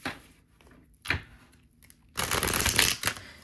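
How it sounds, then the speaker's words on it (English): Oracle fortune teller cards shuffled by hand: two brief soft riffles, then a longer, louder burst of rapid flapping and slapping, close up with no talking. "let me shuffle these, so you might want to turn the volume down a little bit"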